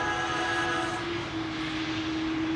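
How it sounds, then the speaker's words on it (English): A KLM Boeing 777-300 airliner at Amsterdam Schiphol Airport gives off a loud, steady jet engine roar with a sustained whine, continuous and close. "This is KLM flight 597, which is going to leave for Cape Town in South."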